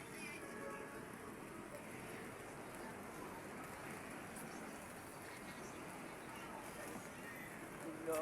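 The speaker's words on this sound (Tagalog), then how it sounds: "Naabot kami ng ulan." Steady rain patters on surfaces with a faint, even hiss throughout, with a few soft, brief background sounds and no close sounds over it.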